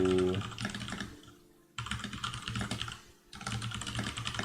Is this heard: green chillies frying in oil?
no